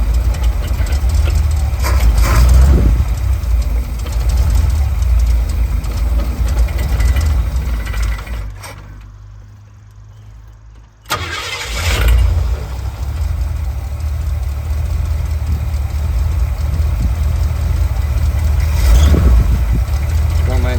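A Ford 5.0 small-block V8 idles loud and close just after a Pertronix electronic distributor install, timing a little retarded, its steady rumble briefly cutting out near the middle before resuming; a voice speaks faintly at times.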